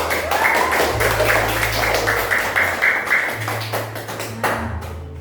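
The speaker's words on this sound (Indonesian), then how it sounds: "Sekali lagi tepuk tangan untuk kalian semua." Children in an Indonesian classroom clap together after being praised by their teacher, a dense, steady patter of many small hands close by that continues for several seconds before thinning out.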